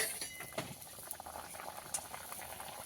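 Water bubbles at a rolling boil in a pot for fish curry. The soft bubbling and popping is close and continuous, with a few sharper pops.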